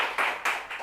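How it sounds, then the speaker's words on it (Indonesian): A small group claps for PT Telkom Indonesia during a podcast recording, three brief bursts of hand claps in quick succession, close and moderately loud. "Kita kasih tepuk tangan dulu untuk PT Telkom Indonesia."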